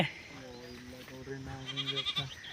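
Sheep from a large flock of about 500 bleat close by, a few wavering, drawn-out calls with a higher cry toward the end, while a person talks softly nearby.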